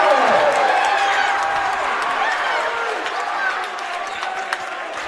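A basketball crowd at a 2026 varsity high school game between Trinity Episcopal and St. Christopher's roars right after a charge call, a loud, dense, sustained cheer filling the gym for the whole stretch and easing only slightly near the end.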